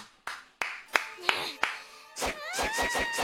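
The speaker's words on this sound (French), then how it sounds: "Moi, j'applaudis" A streamer claps a few times in slow, separate, sharp hand claps, then a quicker burst of claps runs under a whistling, warbling tone, close and fairly loud.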